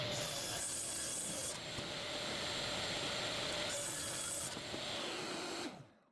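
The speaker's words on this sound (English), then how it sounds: "Now I'm gonna rip into the 3-inch strips." A table saw rips boards into 3-inch strips, giving a steady loud whining, rasping cut that swells briefly twice before spinning down at the end, with no talking.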